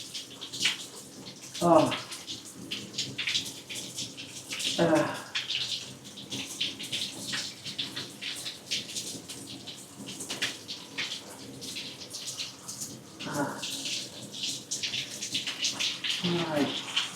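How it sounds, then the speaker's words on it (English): A shower runs steadily in a home bathroom, a continuous broadband spray of water hissing throughout, with a few brief louder bursts and splashes and a short spoken exclamation over it. "I'm going to try and reach behind and turn the shower off now"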